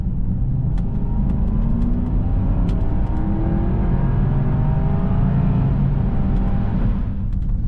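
A Porsche Cayenne Turbo 955 engine revs loudly and close, with a steady deep rumble whose pitch climbs gradually before easing off.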